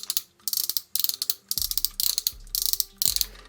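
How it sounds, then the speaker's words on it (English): Ratchet joints on a Transformers Generations Fall of Cybertron action figure clicking close up in quick bursts of sharp, rapid clicks, about seven short runs separated by brief gaps. "Another one of them satisfying ratchets"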